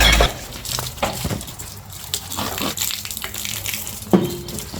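A garden hose sprays water onto potted succulents and oregano outdoors during light rain, giving a steady close hiss with scattered small clicks and splashes.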